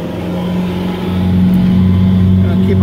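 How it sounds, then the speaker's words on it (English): A 2015 Sea Ray 230 SLX boat engine is throttled up toward cruise speed, giving a loud, steady motor drone with a low hum that swells slightly as the revs climb, continuous through the clip. "Okay, let's throttle up. Gonna bring it up to cruise speed."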